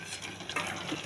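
A spoon briefly stirs cooked millet and moong dal pongal in a pot, giving a quiet, soft scraping and mushy swish for about a second, with no voices.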